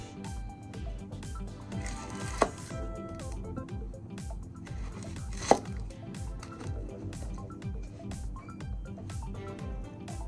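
Onion being chopped on a board for sinigang na labanos, with repeated knife strokes in a loose rhythm over background music and two sharper cracks standing out.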